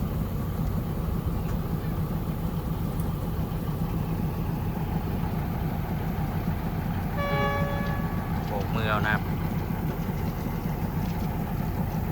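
A train engine idles with a steady low rumble, loud and close. A short horn toot and a brief squeal sound over it partway through.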